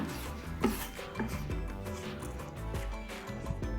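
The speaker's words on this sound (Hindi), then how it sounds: "मुसलसल चलाते हुए हम अपना मावा तैयार करेंगे।" A spoon scrapes and rubs steadily through thickening mawa in a pan over low flame for carrot halwa, in repeated soft strokes close by. No one talks over it.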